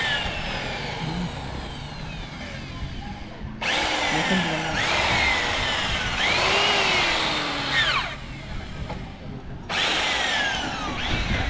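A power drill whines as it drills out the rivets holding a vehicle's number plate during trip preparation. Its high, rising and falling whine comes in several sustained bursts with brief pauses, loud and close over steady workshop noise.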